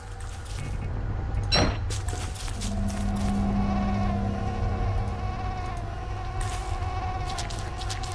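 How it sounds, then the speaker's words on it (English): A thin, whining mosquito buzz drones on steadily in a swamp in the video game Don't Starve, with a soft whoosh early on and low ambient hum underneath. "I hear mosquitoes."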